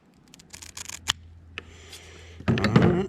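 Scissors or snips cutting off the end of a part on a Jackson Bite Fly Doctor, with several quick close snips and handling clicks followed by a louder rustling burst near the end.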